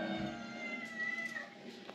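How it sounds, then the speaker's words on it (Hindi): A cat meows outdoors while someone works in a home kitchen, a few thin cries rising over steady background hum and kitchen clatter, with a short sharp knock near the end. "बिल्ली बाहर रो रही है"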